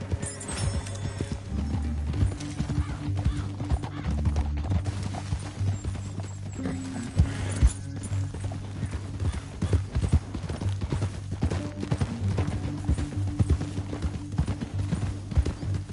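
Horses' hooves clip-clop steadily through a Red Dead Redemption 2 game scene, with an occasional whinny over a low, continuous backing of sound.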